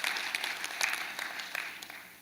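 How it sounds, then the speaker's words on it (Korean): A church congregation gives a brief round of applause for a visiting pastor after a sermon, quiet and somewhat distant clapping that spreads through the room for a couple of seconds. "다시 한번 사랑과 존경의 박수로 이 시간 드리도록 하겠습니다"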